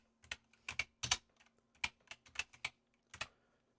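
Faint keystrokes on a computer keyboard, about a dozen irregular clicks in quick bursts over a low steady hum, with no voices.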